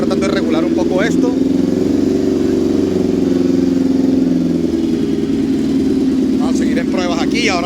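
A homemade kart cross engine runs steadily at idle, a loud continuous mechanical drone with a low rumble from start to finish, while someone speaks over it in bursts.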